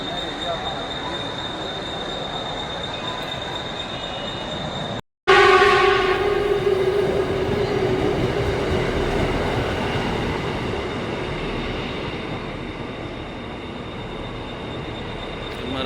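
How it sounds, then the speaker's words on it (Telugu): A train engine pulling into a crowded Mumbai suburban railway station, rumbling and rattling close by with a sustained horn-like tone and wheel squeal over background crowd noise. "మరి అదే ట్రైన్ ఇంజిన్ అనుకుంటా."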